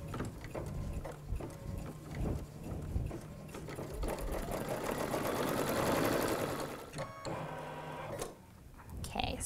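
An embroidery machine stitches appliqué fabric in place with a fast, continuous mechanical chatter and whir, close and fairly quiet, before slowing near the end.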